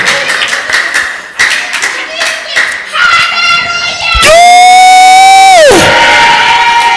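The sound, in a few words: congregation applauding loudly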